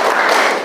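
A school class claps together in a quick, brisk burst of rhythmic spirit clapping, loud and close, filling the whole short moment.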